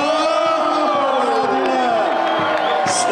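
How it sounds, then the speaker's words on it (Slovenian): A crowd cheers and whoops at a cycling race celebration in Ormož as a bottle of sparkling wine is opened for the stage winner, Dylan Groenewegen, with loud, continuous massed voices and rising shouts. "sedaj pa še navijanje pri odpiranju penine"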